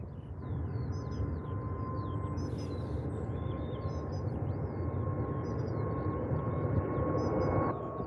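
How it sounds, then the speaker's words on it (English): Aircraft departing Liverpool John Lennon Airport, a steady broad engine roar that holds at an even loudness throughout, with bird chirps repeating over it. "I'm just waiting for the departing aircraft,"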